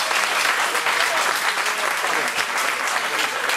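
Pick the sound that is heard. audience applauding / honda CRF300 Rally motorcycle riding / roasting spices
audience applauding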